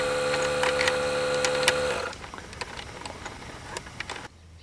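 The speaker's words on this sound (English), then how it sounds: "That short clip you just saw was made using this Dewalt cordless air inflator tool." Dewalt cordless air inflator pumping up a car tire on a cold morning of about 28 degrees: a close, steady buzzing motor hum for around two seconds, then it cuts off, leaving faint ticking and quiet outdoor background.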